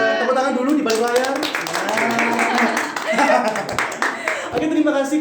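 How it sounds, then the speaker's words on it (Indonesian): Clapping from a small studio audience at a podcast taping, brief bursts of hands heard under and between ongoing talk, fairly close. "Tepuk tangan dulu di balik layar."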